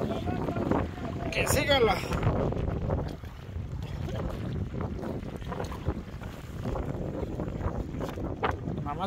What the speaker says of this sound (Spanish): está muy ventoso